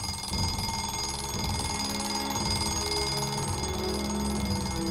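An alarm clock rings continuously in a fast, shrill, unbroken trill that stays at an even level from start to finish, with no voices over it.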